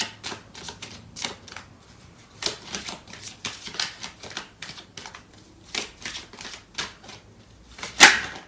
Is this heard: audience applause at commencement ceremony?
no